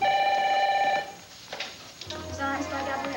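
An indoor telephone rings with a steady electronic tone that cuts off after about a second, followed by quiet room noise and soft background music under it.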